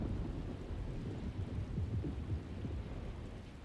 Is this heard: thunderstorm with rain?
yes